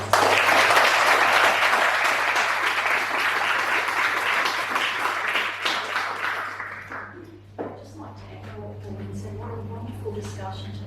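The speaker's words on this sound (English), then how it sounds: "So a round of applause for our panelists." An audience at an International Women's Day panel event claps for the panelists in a full, sustained round of applause that fades after about seven seconds, with a low steady hum underneath and scattered voices as it dies down.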